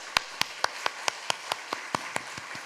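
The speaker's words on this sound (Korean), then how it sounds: "여기까지 인도하신 하나님께 우리 영광의 박수 올리겠습니다" A church congregation applauds in praise during a worship service, with about a dozen crisp, evenly spaced claps in a steady unison rhythm, fairly quiet and with no talking.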